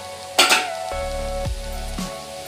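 Chopped carrot and cabbage sizzle and get stirred in a hot frying pan, a steady frying hiss with a sharp scrape of the spoon against the pan and a few clinks.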